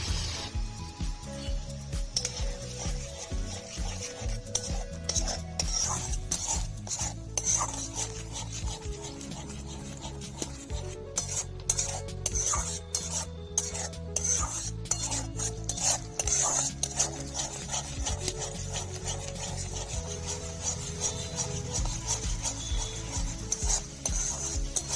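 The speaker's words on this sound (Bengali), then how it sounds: "অল্প জল দিয়ে মশলাটা কষে নেব" Spiced masala for Bengali egg curry (dim kosha) with a little water is stirred and fried in a pan, giving a steady close sizzle with repeated scraping and rubbing strokes of a spoon against the pot throughout.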